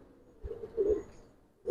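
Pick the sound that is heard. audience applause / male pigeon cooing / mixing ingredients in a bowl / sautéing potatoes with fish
male pigeon cooing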